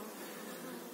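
Large honeybees from a caught swarm fill a swarm trap, making a dense, continuous, close buzzing hum with no talk.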